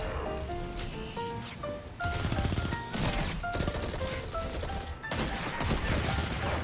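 Rapid bursts of gunfire in a Destiny 2 Crucible PvP match, the sharp shots repeating in clusters over a steady bed of game sound effects.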